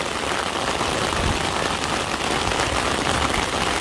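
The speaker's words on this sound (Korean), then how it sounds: "아, 예, 비가 많이 온다 지금." Heavy rain falling hard and steady on a surface during a fishing outing, a dense, close, continuous hiss with no pauses and no voices.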